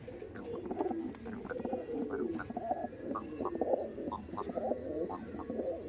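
Madrasi pigeons kept for sale coo repeatedly at close range, soft throaty rolling calls overlapping in an uneven rhythm without any talking.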